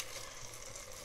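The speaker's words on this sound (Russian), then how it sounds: "наше мясо с овощами тушится, жарится" Meat and vegetables fry in a pan with a soft, steady sizzle and crackle, quiet and close, with no talking.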